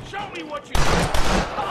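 A single sharp gunshot bursts out for a headshot in the Western video game Red Dead Redemption. It is loud and sudden, and a short stretch of soft talk comes just before it.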